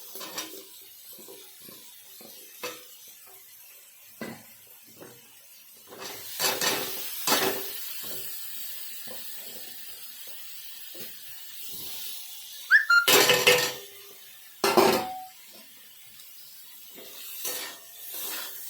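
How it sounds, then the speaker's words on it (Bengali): Potatoes and mushrooms are sautéed with masala in a pan, giving a quiet sizzle with scattered stirring scrapes and a few louder clatters of the spatula against the pan. "ভালো করে দুটো একসাথে কষিয়ে নেব মশলার সাথে"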